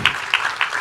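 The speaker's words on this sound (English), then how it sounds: "You can clap more freely." Audience applause rising in short bursts of clapping at a talk show featuring an actress, fairly close and moderately loud, with no speech over it.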